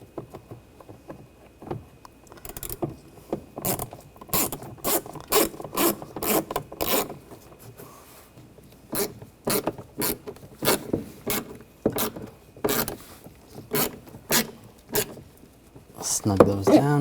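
Screws are started by hand into the rear window regulator of a 2007-2013 BMW X5, giving a long run of quick, close scraping and rasping strokes with a short pause midway and talk at times.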